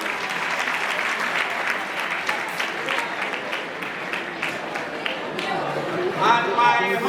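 Audience at a science and maths quiz championship awards ceremony claps steadily, a dense continuous patter of many hands that swells slightly near the end, close and lively, with no talking over it.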